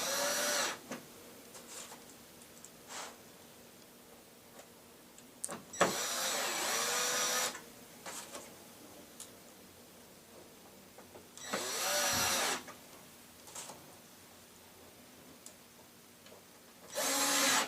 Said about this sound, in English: The holes are already pre-drilled, and you just anchor the screws down.